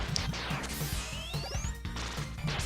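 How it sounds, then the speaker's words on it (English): Noise Crush weapon fire in the video game Mega Man 7, heard as crunchy smashing blasts and a rising whistling streak over busy game music, with no voices. "And that was the Noise Crush."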